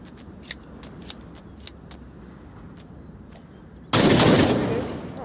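A gun being reloaded in the virtual-reality shooter Onward: a series of sharp mechanical clicks and taps, then a sudden loud, harsh burst that slowly fades.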